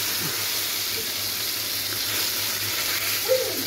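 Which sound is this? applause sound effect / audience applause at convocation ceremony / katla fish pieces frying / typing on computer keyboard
katla fish pieces frying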